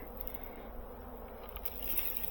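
Honeybees buzzing inside a hive just coming out of winter, a faint, dense, steady drone of many wings heard up close with no talk.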